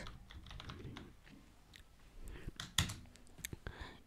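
A website address is typed on a computer keyboard in a quiet room, a soft, uneven run of key clicks ending in a few sharper taps.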